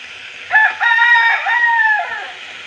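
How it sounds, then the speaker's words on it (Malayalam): A rooster crows once, a long drawn-out call rising and holding before trailing off, fairly close and clear against a quiet background. "ബാക്ക്ഗ്രൗണ്ട് നല്ല കോഴി കോണ സൗണ്ടൊക്കെ ഉണ്ടാവും"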